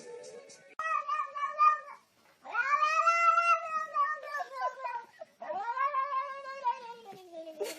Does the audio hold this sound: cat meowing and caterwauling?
yes